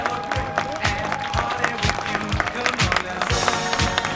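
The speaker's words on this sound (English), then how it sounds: "How about a big round of applause for our 8th grade football players?" Crowd applause and cheering at a middle school rivalry football game honoring 8th grade players, steady and loud, with a rhythmic thumping beat and voices mixed in.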